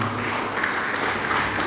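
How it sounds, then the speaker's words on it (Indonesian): A room full of people claps for Pak Nadimi, a steady wash of applause at moderate level, continuous and without speech over it. "tepuk tangan buat Pak Nadimi"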